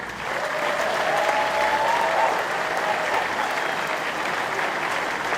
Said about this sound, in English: big round of applause for these two